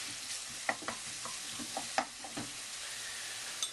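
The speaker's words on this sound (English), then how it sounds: "So here we go, the garlic's in. I like the smell of garlic cooking." Garlic frying in a pan for mushroom risotto, a quiet crackling sizzle with several small pops and spatula taps scattered through, no talking.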